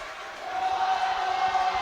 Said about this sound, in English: The crowd starting to get behind those St Helens favourites